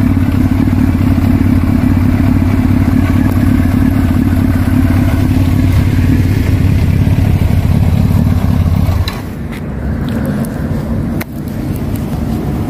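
A 1999 Yamaha R1 sport motorcycle engine runs loud and close with a deep, rough throbbing drone, then drops to a lower, lighter idle near the end, with no talking.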